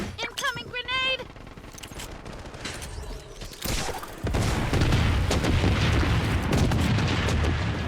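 Blood Strike mobile shooter gameplay: a grenade blast lands midway, followed by sustained loud gunfire and rumble, with game voice callouts near the start.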